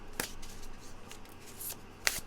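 Tarot cards shuffled by hand in two or three quick riffled bursts, crisp and close, with quiet pauses between them and no talking.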